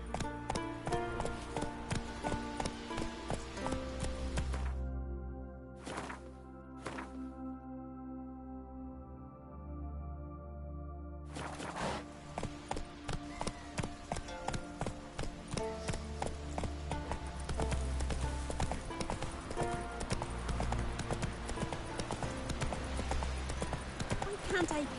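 A horse gallops in The Witcher 3: Wild Hunt, a rapid rhythmic clip-clop of hooves that runs most of the time, briefly drops away near the middle, then resumes under game music and a voice.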